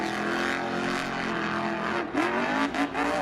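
The Sparkle Smash monster truck's engine roars loud and steady through a Monster Jam freestyle run in El Paso. It revs up and surges near the end amid arena noise.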